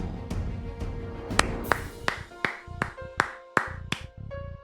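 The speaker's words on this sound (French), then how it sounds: "Ah mais les gars, j'applaudis." A streamer claps his hands about ten times in slow, uneven succession, each sharp clap close and distinct over faint background sound.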